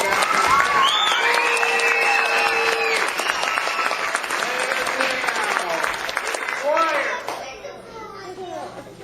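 A school audience applauds throughout after thanks at an Oregon event, a dense steady clapping crowd with cheers and voices mixed in, tapering toward the end.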